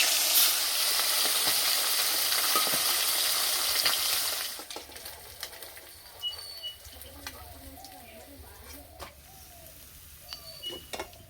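Tilapia fish frying in oil until reddened, in a village kitchen; a loud, steady crackling sizzle fills the first four seconds, then quieter spitting and pops continue with birds chirping in the background.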